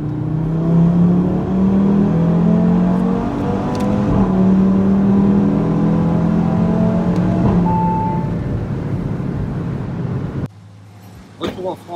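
An Audi RS3 accelerating hard through an Alpine tunnel, its engine droning loudly through rising gear pulls before cutting away abruptly into quieter interior noises near the end.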